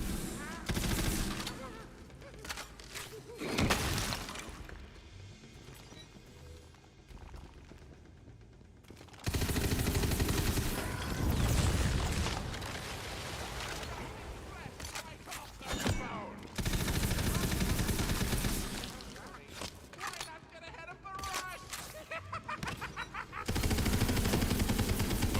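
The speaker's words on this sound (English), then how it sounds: "Fully automatic pistol with the bouncy bullets." Fully automatic pistol firing bouncy bullets in Borderlands, heard as several loud, dense bursts of rapid gunfire separated by short pauses.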